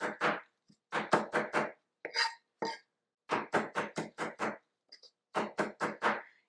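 A knife chops food into very small pieces on a board, with quick bursts of four or five close, crisp knocks separated by short pauses and a few lighter taps.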